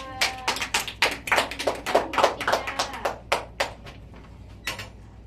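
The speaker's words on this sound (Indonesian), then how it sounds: "Tepuk tangan untuk Mbak Ranisa." Classroom applause for a student at the front of a lesson, a short burst of scattered hand claps of uneven rhythm from a small group, close by, tapering off after about four seconds with no talk over it.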